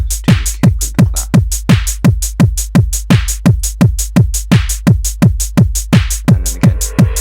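Punchy electronic kick drum hits with a clap pound in a steady, fast four-on-the-floor pattern in an FL Studio electro track, each boom sharp and loud, a brighter layer entering near the end.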